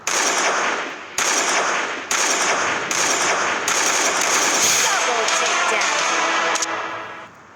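Gunfire in the Free Fire mobile game, loud rapid automatic bursts in several sharp volleys with brief gaps, close and dense, trailing off at the end.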